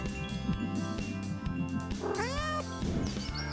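A cat lets out a drawn-out, rising-and-falling meow, close and clear, over a busy background of music and ambient noise.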